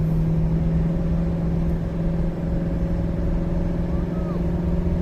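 A 2025 Chevy HD Duramax diesel truck climbs uphill near Buena Vista, Colorado, heard from inside as a steady low engine drone with a constant hum and road rumble, moderately loud and unbroken.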